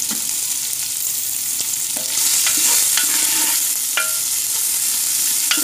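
Dried beef and shrimp fry with garlic in a loud, continuous sizzle that swells after a couple of seconds, punctuated by repeated scraping clicks of a spoon stirring in the pan.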